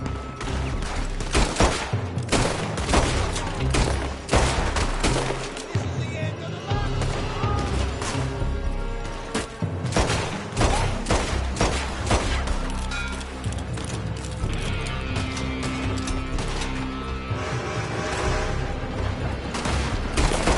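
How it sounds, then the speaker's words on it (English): Dense video game gunfire from a building, rapid volleys, bursts of automatic fire and heavy booms nearly continuous for twenty seconds, loud and close, with shouted voices mixed in. "They're shooting from that building!"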